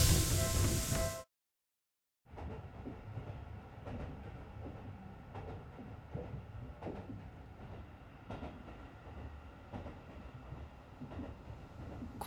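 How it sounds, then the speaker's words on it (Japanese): A train pulls in and runs along the rails in an animated town scene. A low rumble carries a steady clickety-clack of wheels over rail joints, moderately close, with no talking. "電車来た。"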